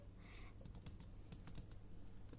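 Computer keyboard keys pressed during a zombie-apocalypse game mod, giving a scattered run of light, close clicks over a low steady hum with no talk.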